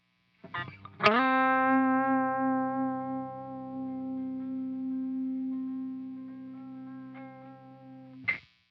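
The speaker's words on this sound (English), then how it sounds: "once you click on a compression pedal, this is what it'll sound like." A single electric guitar note plucked and held through a compressor pedal, ringing evenly with long compressed sustain for several seconds before a final pick scrape.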